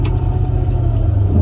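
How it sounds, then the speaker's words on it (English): A V8-swapped Volvo sits idling too high with a deep, steady, loud rumble close to the car. Its throbbing tone holds for a short moment alone, with no talk. "It's still idling"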